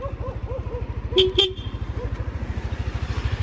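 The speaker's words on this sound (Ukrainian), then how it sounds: "Бібіка також працює." A 2016 Yamaha NMax 125 scooter idles with a steady, fast putter, and its horn gives two short, close beeps partway through.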